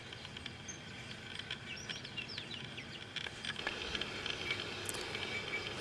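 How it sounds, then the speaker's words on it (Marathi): Faint birds chirp and call in the distance against a quiet early-morning outdoor hush, with soft scattered tweets throughout. "पक्ष्यांचा आवाज"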